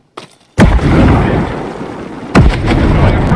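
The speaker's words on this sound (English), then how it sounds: "Get down, grenade." A grenade blast in Ghost Recon Breakpoint booms loud and close, followed by a second heavy explosion about two seconds later, each trailing into a rumbling wash of noise.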